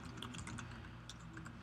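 Quiet, rapid clicking of fingers on a computer keyboard as an email address is typed into a mail program's server settings, with no talking.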